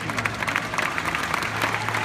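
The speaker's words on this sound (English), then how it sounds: "Tommy, round of applause for Tommy" Audience applause at SeaWorld Orlando for a mountain lion appearing on stage, a dense, steady wash of clapping that runs for about two seconds without a break.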